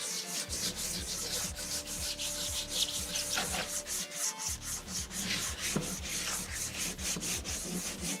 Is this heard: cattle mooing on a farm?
no